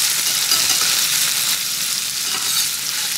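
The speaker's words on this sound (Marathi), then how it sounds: "आता या भाज्या थेट तेलामध्ये हलक्याशा टॉस करायचं." Steamed vegetables and paneer tossed in hot oil give a loud, continuous hiss and crackle of frying, steady and close with no voices over it.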